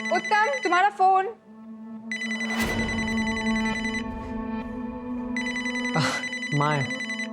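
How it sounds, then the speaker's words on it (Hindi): A telephone rings with a bright, steady electronic tone that carries through most of the stretch, while people speak briefly at the start and near the end. "तुम्हारा फोन।"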